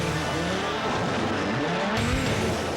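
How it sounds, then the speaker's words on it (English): A 400-horsepower Group B rally car slides across ice with little traction, its engine revving and wailing as the tires skid and squeal, loud and continuous with no talk. "Dancing across the ice with little or no traction and 400 horsepower was a tour de force indeed."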